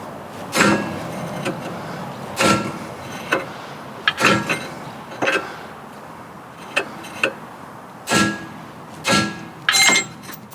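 Heavy metallic hammer blows strike a Land Rover Freelander 2 lower suspension arm one after another at irregular intervals, loud and close, over a steady background hiss.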